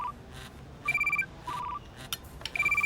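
A mobile phone rings indoors with a repeating electronic ringtone of quick high beeps in short phrases, moderately faint under a room hum.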